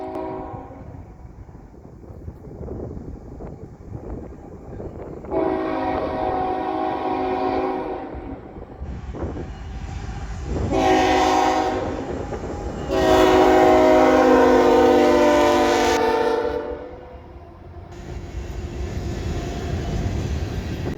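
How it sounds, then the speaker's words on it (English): A loaded ethanol tank train led by Canadian National 3115, the BC Rail heritage unit, rumbles past on a cold, rainy night on the CSX Columbus Subdivision, sounding several long, loud horn blasts over the steady rolling rumble. "Canadian National number 3115, the BC Rail Heritage Unit, is seen leading a loaded tank train of ethanol."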